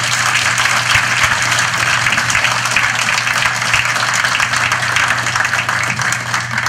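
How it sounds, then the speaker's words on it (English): An audience gives a loud, sustained round of applause for Donald Davidson, a dense and even clatter of many hands clapping that runs without a break, over a low steady hum. "So another round of applause for Donald Davidson"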